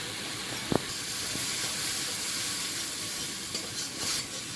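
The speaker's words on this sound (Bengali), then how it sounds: "মশলাটা কষানো হয়ে গেছে" Spice masala of turmeric, cumin powder and salt sautés in a pan before fish is added, giving a constant close hissing sizzle with a brief utensil knock near the start.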